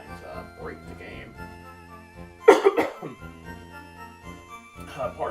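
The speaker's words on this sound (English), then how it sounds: "Pardon me for coughing so much." A man coughs while streaming a Pokemon Radical Red game, a short burst of close, harsh coughs in the middle, with quieter talking before and after.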